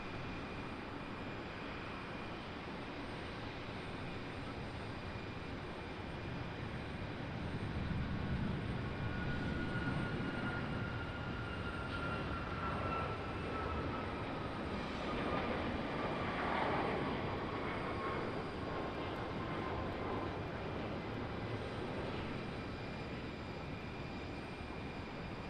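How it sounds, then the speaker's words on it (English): An Alaska Airlines jet departs Raleigh Durham airport, heard from a distance as a faint, steady rumble that swells gently and then holds, with a thin high whine sliding downward partway through. "Here goes Alaska Airlines headed back to Seattle."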